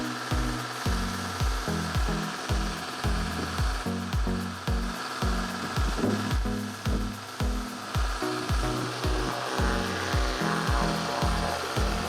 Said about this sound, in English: I like to get my blow gun out and blow everything out from underneath the seats